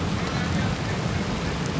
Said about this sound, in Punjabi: ਹਜੇ ਵੀ ਮੀਂਹ ਆ ਨਾ ਪੂਰਾ ਤੇਜ਼ ਆ